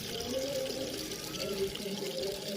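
Water being poured from a bucket onto garden plants in a village, a soft steady splashing trickle heard faintly and close, with a voice speaking over it.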